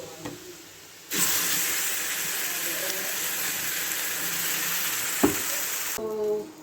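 Ground paste from a mixer dropped into a pan of hot butter, bursting into a loud, steady sizzle that holds for several seconds with a clatter partway through, then cuts off sharply.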